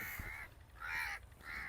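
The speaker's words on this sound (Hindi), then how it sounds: "इस बेचारे को ना काफ़ी ज़्यादा कौवे जो है वो तंग कर रहे, चूंचे मारनी शुरू कर दी" Crows harassing and pecking at an animal caw outdoors in three drawn-out harsh calls at a moderate distance, with no talking.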